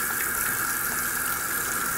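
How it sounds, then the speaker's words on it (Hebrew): Tap water runs steadily from a faucet into the hands while a face cleanser is being lathered, a loud, even hiss and splash throughout with no speech. "אז אני מוסיפה לזה מים"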